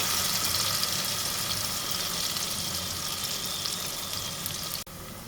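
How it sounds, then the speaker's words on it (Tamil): Chopped onions fry in a pan of oil for paneer kurma, giving a steady, close sizzle and crackle that runs evenly, with a brief dip near the end and no voices over it. "கட் பண்ணி வச்ச வெங்காயம் போட்டு கொஞ்சமாக போட்டு வைக்கிறோம். கொஞ்சம் வதங்கட்டும்."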